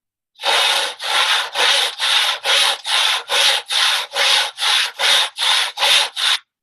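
Rhythmic sawing through wood, about twelve even back-and-forth strokes, loud and close, with no other sounds.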